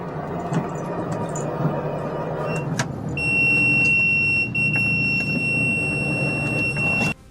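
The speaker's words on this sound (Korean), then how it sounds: "갑자기 삐 소리와 함께 꺼진 영상" A steady high-pitched electronic beep cuts in over low rumbling background noise, holds for several seconds, then stops abruptly as everything goes silent.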